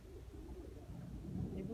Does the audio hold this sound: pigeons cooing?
yes